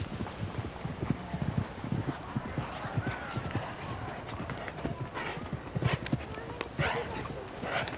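Horse hooves thud in a rhythmic clip-clop at a show jumping arena during an elite competition at Spruce Meadows, close and steady under an announcer's commentary.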